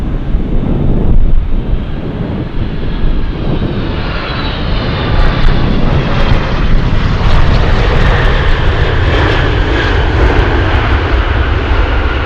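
A Boeing 747 Dreamlifter lands at Anchorage airport with a loud, sustained jet engine roar that builds and whines over wind buffeting the microphone, with no voices.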